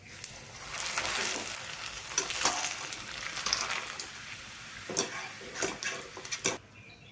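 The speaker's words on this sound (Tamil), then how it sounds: "இப்போ வந்து நம்ம அப்பளம் போட்டு நம்ம பொரிச்சிக்கலாம்." Appalam (papad) crackles and sizzles in hot oil in a home kitchen, a soft steady fry broken by sharp pops and clinks of a utensil against the pan.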